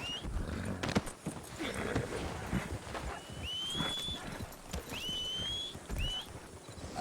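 Hooves clip-clop steadily as several horses are ridden off in a roleplay video game, with a few high whistling calls over the hoofbeats and no talking.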